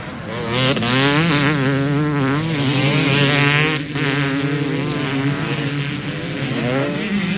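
Two-stroke racing engines on a track heading toward Talladega Turn, a loud, sustained buzzing drone whose pitch wavers and climbs as the machines accelerate, heard up close with no talking.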